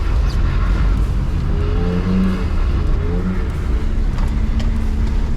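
A BMW E46 320i engine pulls hard on a wet road in the rain, its revs rising and falling in short surges over a constant loud whoosh of road and spray noise.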